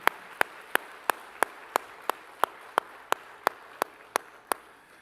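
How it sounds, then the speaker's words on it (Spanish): A church congregation honoring mothers claps in a steady, evenly spaced beat, about fourteen sharp claps in five seconds, moderately faint with no talk over them. "Un aplauso para esas madres."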